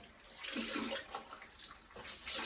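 Muslin cloth dipped and swished in quite hot water in a basin during evening makeup removal, a soft, close sloshing and trickling with a few gentle splashes, faint and brief.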